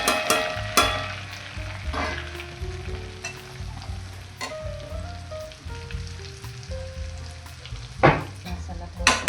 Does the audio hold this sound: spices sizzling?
yes